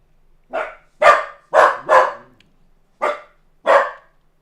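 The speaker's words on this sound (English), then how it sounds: "Maxi's barking" Maxi the dog barks six times in sharp, separate bursts, two quick pairs and then two spaced single barks, loud and close in an otherwise quiet room.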